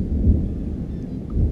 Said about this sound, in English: somebody's scared of thunder, I guess.